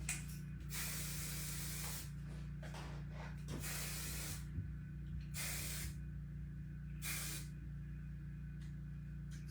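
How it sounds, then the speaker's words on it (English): Several short bursts of hairspray hiss close by, separated by pauses, over a low steady background hum. "I'm going to use some of our spray."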